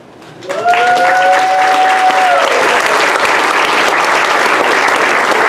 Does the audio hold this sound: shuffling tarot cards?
no